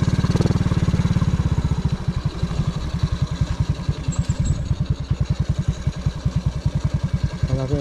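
A nearby motorcycle engine idles with a loud, even chugging beat that slows and loosens slightly as it settles. It runs steadily for several seconds at a resort in Pandan.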